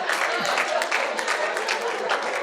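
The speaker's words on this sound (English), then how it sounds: "look at that, all the 20-somethings applauding with me" Comedy club audience of twenty-somethings applauding at a stand-up show, a steady dense wash of clapping held at even loudness for a couple of seconds, with a hint of crowd voices mixed in.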